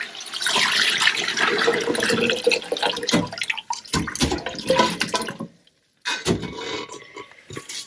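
Leftover avocado-skin dye liquid pours through a strainer into a big pot, a steady splashing rush for several seconds that breaks off briefly, then resumes as softer trickling and drips.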